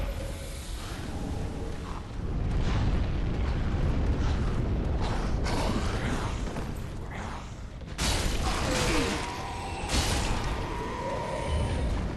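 Bombs explode around the player in a video game, with rumbling blasts and whooshing debris over a dense mechanical din and two sharper bursts near the end.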